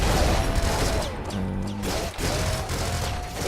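Gunfire in the top-down shooter Nuclear Throne, a dense stream of game weapon shots and impacts, loud and continuous across the whole stretch with brief tonal electronic blips. No one speaks over it.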